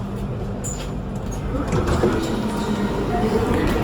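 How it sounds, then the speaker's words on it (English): Steady rumble of a train carrying passengers into the city from a station, a constant rolling drone with faint clanks and hiss, heard from inside the carriage. "taking the train into the city"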